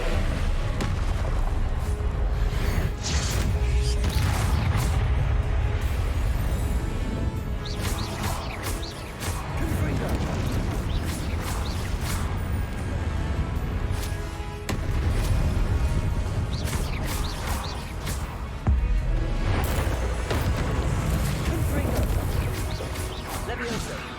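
Confringo blasting spells in the Hogwarts Legacy video game set off repeated booming explosions and crashes over constant loud combat noise, with a player shouting spell names throughout.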